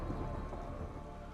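Steady, dense rain pours down with a low rumble of thunder underneath, a continuous wash of storm noise with no voices.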